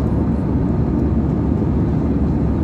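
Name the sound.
airplane cabin noise during flight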